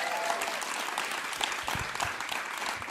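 Audience applause at a concert, a steady wash of clapping from the crowd that carries on evenly for a few seconds, fairly distant and moderate in level.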